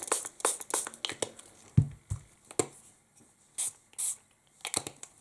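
Several short bursts of hissing spray, with small clicks and handling noises between them.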